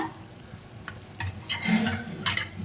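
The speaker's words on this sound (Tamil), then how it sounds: "இதுக்கு வந்து கொஞ்சமாக தண்ணி சேர்த்துக்கோங்க." Food sizzles in a pan while a utensil stirs and scrapes, with a few louder bursts of frying.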